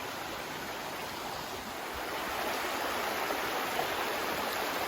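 A creek flowing beside campsites gives a steady, close rush of broadband water noise that swells slightly partway through, continuous and without voices.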